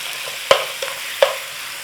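Beef mince sizzles in olive oil in a hot pan over a gas flame, a steady frying hiss broken by a few sharp clacks and scrapes as a utensil breaks up the meat.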